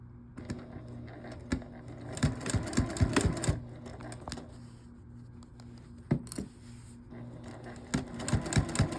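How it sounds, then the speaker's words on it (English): A sewing machine sews quilt binding in short, uneven bursts with frequent stops, producing clattering stitch runs and sharp mechanical clicks. No voices are heard. "mark a line for where you want to start sewing this time"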